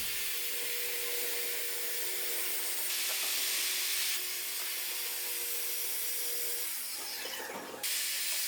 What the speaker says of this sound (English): run your saw against it so it gets nice and straight. Just cut slowly.